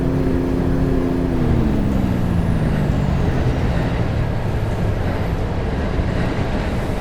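A diesel train engine in a train simulator game, running as a loud continuous rumble whose low tone slides downward as it shifts gear, with a broad hiss over it.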